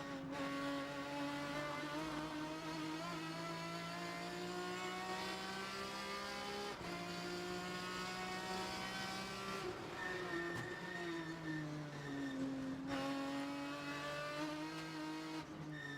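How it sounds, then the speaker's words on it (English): A very loud car engine revs and climbs through its gears, dropping pitch at each shift and then rising again in a sustained roar, with a brief tire squeal and no talking. "This car is so loud in person, it's actually very annoying."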